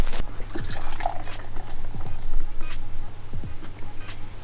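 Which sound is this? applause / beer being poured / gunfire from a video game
beer being poured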